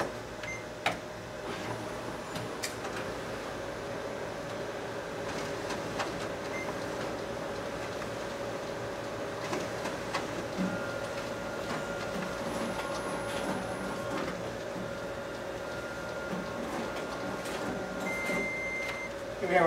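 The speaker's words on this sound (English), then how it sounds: "now we're going to go ahead and run a few test copies to show the color quality on this machine" A Ricoh MP C color copier runs test copies, with a steady mechanical hum, rhythmic clicks and paper-feed rattles continuing for about twenty seconds at moderate volume.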